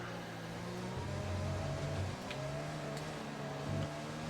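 Racing car engine in a sim racing career game, droning steadily with tonal revs that dip and climb again around an upshift, loud and continuous with no talk over it.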